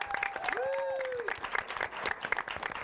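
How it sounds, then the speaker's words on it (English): Studio audience applause for Karen, a guest picked from the crowd on a midnight talk show, a fairly quiet, sustained patter of clapping with brief voices and tonal sounds rising over it early on. "Let's have a round of applause for Karen."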